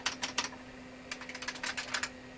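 Keys are typed on an NEC PowerMate 1 computer keyboard in two quick bursts of clicky, close keystrokes separated by a short pause, over a faint steady hum, with no talk.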